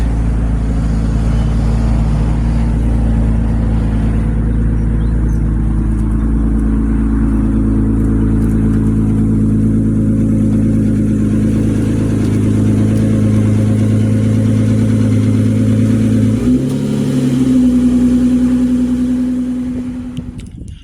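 A car's engine drones steadily from inside the cabin while driving, a loud, continuous low hum with a brief dip and a rise in revs near the end, no voices.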